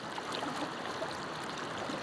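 Steady broadband rush of the Bug-aw river in Leyte flowing past, a continuous, even wash of moving water with no clear voices on top.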